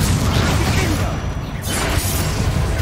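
A Confringo fire-blast spell in Hogwarts Legacy: a loud, dense booming burst with crashing, mechanical texture filling the whole moment, with a brief dip partway before the rumbling blast continues.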